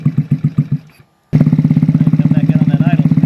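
A stock 49cc GY6 139QMB scooter engine fitted with a 21mm PWK carburetor revs in rough pulses, briefly cuts out, then settles into a steady, fast, close-up idle chug.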